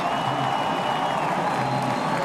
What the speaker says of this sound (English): Thumbs going up from all the crew members, and the crowd roars.